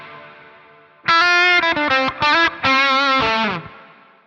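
An electric guitar runs through a Quad Cortex lush plate reverb with the mix set low, around 20 percent. Loud, bright, distorted chords and short phrases play for about two and a half seconds with abrupt stops.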